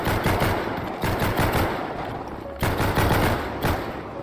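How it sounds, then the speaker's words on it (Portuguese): Rapid automatic pistol fire in the GTA V video game, with dense, loud bursts of shots in quick succession across several strings, close and dominant. "Isso aqui é uma pistola automática."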